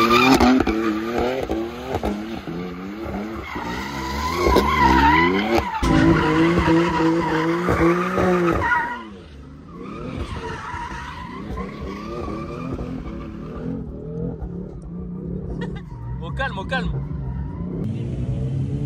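Honda Civic skidding and revving at a night street car meet, loud tire squeal and engine roar for several seconds that then fade, with excited crowd voices talking over it.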